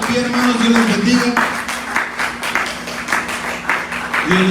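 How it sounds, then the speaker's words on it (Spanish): A church congregation at a Sunday service applauds loudly together, a dense patter of clapping lasting the whole few seconds while a voice speaks over it. "Gloria a Dios, un fuerte aplauso."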